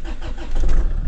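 A Land Rover Freelander 2's engine rumbles and roars close up, its low growl swelling louder as it revs, with no voices.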